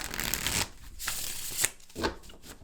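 Unicorn's Journey Oracle cards are shuffled by hand close up, bursts of papery riffling and sliding broken by short pauses and a few sharp taps, with no voices.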